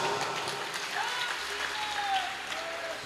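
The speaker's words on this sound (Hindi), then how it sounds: "तुम्हारी ताली बजा रही है" Audience applause at a Shrimad Bhagwat Katha religious discourse, a steady wash of clapping held at an even level throughout, with a voice faintly over it.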